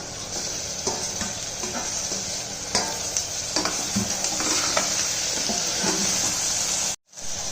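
Steady sizzling of onions and tomatoes frying in a pan for semiya upma, with intermittent scraping and stirring clicks throughout, close and fairly loud, briefly cutting out near the end.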